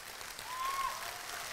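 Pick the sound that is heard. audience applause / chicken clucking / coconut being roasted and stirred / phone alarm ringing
audience applause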